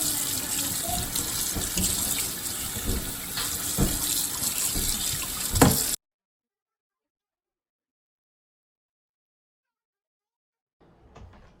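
Cold water runs from a tap into a sink in a steady hiss for several seconds, then cuts off abruptly into silence before a faint sound returns near the end.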